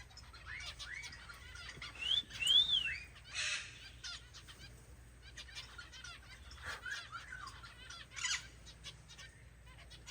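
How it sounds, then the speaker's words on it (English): Zebra finches and a red-headed parrot finch in an aviary give repeated, quick high chirps and tweets in scattered bursts, with a few louder rising calls. The calls sound moderately close, and no one speaks over them. "So there's a bunch of the zebra finches with one of the red-headed parrot finches."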